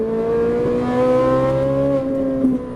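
A Ferrari 458 Italia accelerates hard on a track, its engine wailing in a loud, close, steadily climbing note with a brief dip near the end, heard alone without talk.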